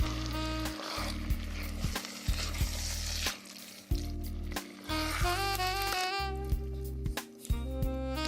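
A spoon stirs lasagna soup with tomato sauce in a pot, producing steady soft sizzling and wet scraping over a low hum, with brief clinks and pauses between strokes.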